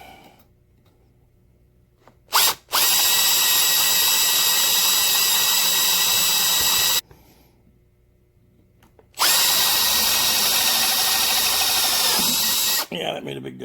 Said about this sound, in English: start with a 16th drill